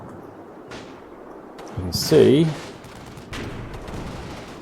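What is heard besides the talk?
big artillery shells coming in, from a war video game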